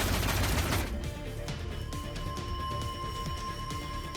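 In the game Neural Cloud, a dense burst of explosive crackle opens, then gives way to scattered sharp bangs and impacts over low rumbling and faint tonal hums.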